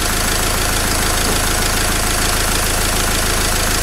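Diesel engine running steadily after its injectors were cleaned with Wynn's cleaner, a continuous loud, even idle with a dense mechanical rattle and no talk over it.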